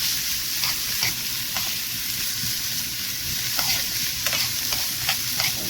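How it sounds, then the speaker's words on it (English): Onion, green onion and chopped garlic sizzle in a pan while being stirred, a constant close crackle broken by repeated light scraping strokes of the utensil. "I have some green onion, I have some garlic I already chopped, and I'm just gonna stir it."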